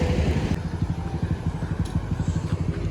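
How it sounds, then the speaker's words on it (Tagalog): Motorcycle engines idle and rumble at a roadside police checkpoint, with a steady low pulsing drone throughout and no clear speech. "Kaya pala ang daming motor."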